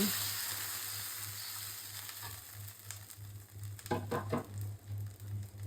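Water poured into a hot pan of frying onions for ilish bhuna paturi, a steady sizzle that gives way to sharp bursts of spitting and crackling near the end, close and with no voices.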